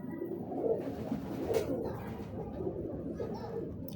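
Teddy breeder pigeons coo softly and close by, several low, throaty calls repeating in a gentle rhythm over a quiet background.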